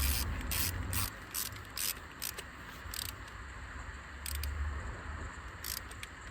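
Torque wrench ratcheting while tightening fuel injector bolts on a Mazda Skyactiv engine during exhaust camshaft repair, a run of quick mechanical clicks in bursts over a low steady hum.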